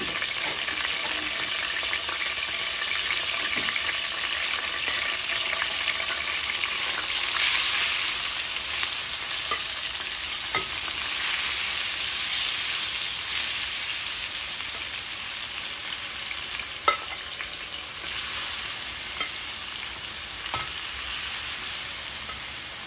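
A second batch of king prawns fries in a pan with a steady, close hiss and sizzle, marked by occasional pops and crackles throughout.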